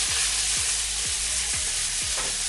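Onion, curry leaves and tomato fry in hot oil in a pan, a loud steady sizzle throughout with five regular scraping stirs about every half second, no talking.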